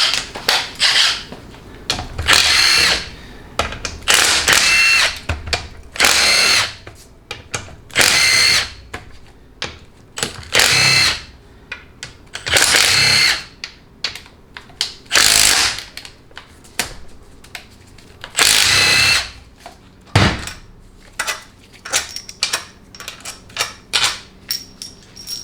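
Impact or air wrench zipping out 13 mm pump-to-case bolts on a 700R4 transmission during teardown, a loud series of short rattling bursts spaced a second or two apart, close by with no talking.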